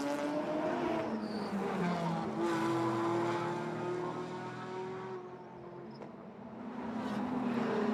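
GT4 race cars roar past on a street circuit at Vila Real, engines rising and falling in pitch as they pass close and loud, one after another with brief lulls between.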